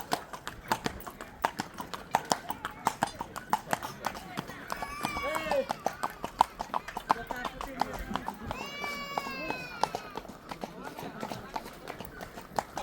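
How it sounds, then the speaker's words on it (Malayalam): Horse hooves clip-clop in a steady trotting rhythm during a horse ride in Kodaikanal, close and clear, with people talking over the hoofbeats throughout and an occasional whinny-like sound in the background. "കുതിര സവാരി"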